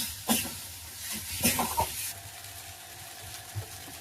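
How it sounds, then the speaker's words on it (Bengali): Spices sizzling and being stirred in a pan with salt, turmeric and chili powder: soft frying hiss broken by a few scraping stirs, close and moderately quiet, with no one speaking. "নুন হলুদ লঙ্কা গুঁড়ো, এই দিয়ে কষছি।"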